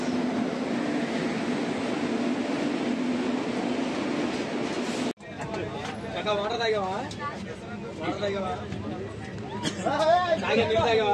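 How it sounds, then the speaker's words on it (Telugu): The Rayalaseema Express rumbles into a station with a steady roar, then the noise drops away as a busy crowd of voices and station chatter takes over. "వచ్చేసింది రాయలసీమ ఎక్స్ప్రెస్"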